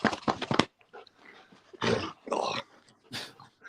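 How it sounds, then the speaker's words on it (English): A dog barks and growls in rapid bursts close by indoors, a quick flurry at first and then several longer rough growling barks, with a person briefly exclaiming. "My dog's going nuts."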